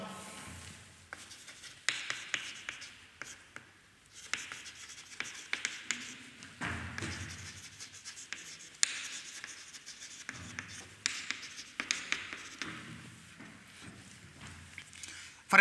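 Chalk or marker scratches and taps on a board in short bursts of writing with pauses between, close and fairly faint, while a teacher talks at intervals.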